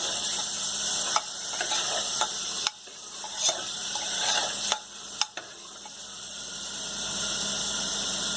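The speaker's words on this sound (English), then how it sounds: "Mix it well." A spoon stirs spinach and corn pulav in a pan over steady sizzling, giving a few scraping clicks and knocks against the pan above the constant frying hiss, close up, with no talking.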